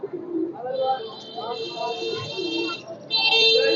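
Pigeons coo at a busy pigeon market, a steady mix of soft cooing and bird calls alongside a high electronic buzz, with people talking throughout.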